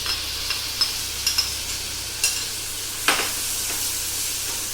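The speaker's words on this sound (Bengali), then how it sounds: "এবার আমি এই চিংড়ি মাছটা এর মধ্যে মিশিয়ে দেবো।" Prawns are stirred into a hot frying pan for a sauteed prawn mash, giving a soft continuous sizzle with several scraping stirs and clicks at irregular moments, moderately quiet and without talk.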